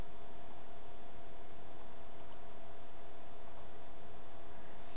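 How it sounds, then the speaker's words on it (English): Computer mouse clicks sound while copying a link address: a few faint, sharp paired clicks spread over several seconds above a steady room hum. "if you right click and copy your link address"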